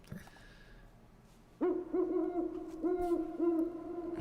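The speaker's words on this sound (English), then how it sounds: "The iconic owl intro, ripped off of YouTube." Owl hooting on a recorded album intro track: after a quiet start, a sudden run of clear, tonal hoots in a repeating pattern, close and steady, with no talk.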